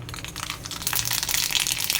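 Mustard seeds crackle and sizzle in hot oil while tempering for mango rice, a dense, steady, close-up spitting that grows busier and louder halfway through.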